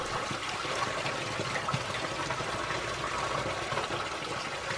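Water from a sour spring fountain in La Alpujarra, Granada, pouring in a steady, continuous splashing stream, close and moderately loud, with no talk.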